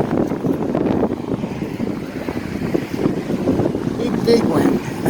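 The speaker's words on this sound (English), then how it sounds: "Really windy today." Strong outdoor wind buffeting the microphone on a stormy day, a steady loud rumbling roar that fills the clip from start to finish with no break.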